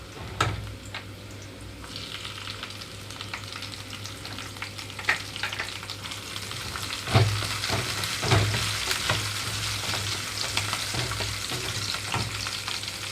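Onions and green chillies frying in a pan for tomato fried rice, a steady hiss of sizzling oil with occasional sharper crackles and clinks of stirring, close and continuous, no talking.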